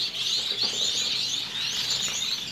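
A dense chorus of Bengalese society finches at a breeding farm, continuous high chirping and twittering from many birds at once with no talking.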